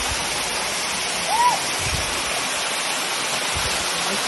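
Waterfall at Lake Belton, a steady loud rushing roar of falling water filling the scene, with faint voices and a brief whistle-like tone briefly over it.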